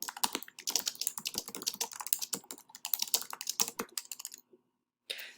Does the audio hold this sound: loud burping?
no